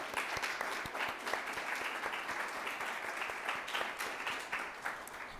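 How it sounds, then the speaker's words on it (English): Audience applause at a youth summit on woman suffrage, a steady crowd clapping with distinct claps popping through, heard from some distance at a moderate level for several seconds. "Let's give her a round of applause."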